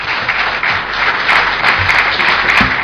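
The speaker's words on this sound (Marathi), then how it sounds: "थोडंसं आपण जोरदार टाळ्या देऊन या सर्व कलाकारांचं" An audience at a Marathi music event claps loudly and steadily for the performing artists, a dense, close wash of applause with no talk.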